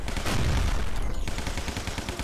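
Shotgun blasts and rapid submachine gun fire in the zombie shooter game Guns, Gore and Cannoli, a loud dense burst of repeated shots rattling continuously with heavy low booms.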